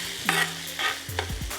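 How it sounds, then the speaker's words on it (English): Rice fried with mushrooms and sausage, stirred with a spoon in a hot pan: a few scraping stirs and soft sizzles come close up, with no talking. "I'm gonna take my spoon and I'm just frying this rice together."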